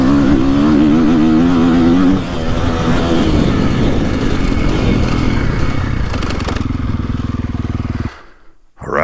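A KTM 450SXF four-stroke motocross bike rides a GP track, its loud engine revving and pulling hard with shifting pitch, then a steady drone, before cutting off abruptly near the end.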